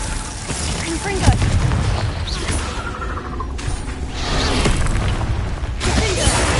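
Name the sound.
Confringo fire-blast spell explosion from a Harry Potter video game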